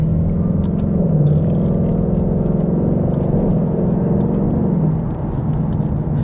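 A 2022 Ford Mustang GT with a 5-liter V8 and 10-speed automatic drones loudly from inside the cabin, a steady engine rumble with a brief dip near the end where a quick gear shift may fall, no talking.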